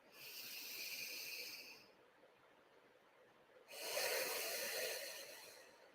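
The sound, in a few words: deep belly breathing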